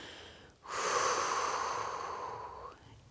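During a breathing exercise, one long, close, airy inhalation draws in for about two seconds after a brief pause, then tapers off, with no talking.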